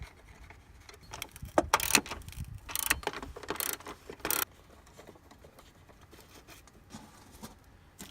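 Bolts tighten on the battery plate of a Peugeot 307, giving quick bursts of metallic ratcheting clicks and rattles close by, then fading to near quiet with a few scattered ticks.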